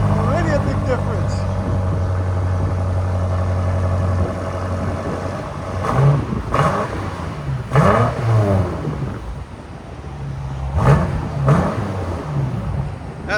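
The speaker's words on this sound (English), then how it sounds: "2020 BMW M5 with a Resonator delete" A 2020 BMW M5 with its 4.4-litre twin-turbo V8 and a resonator delete idles with a deep rumble, then blips the throttle in several sharp revs, with brief pauses between them. People talk over it.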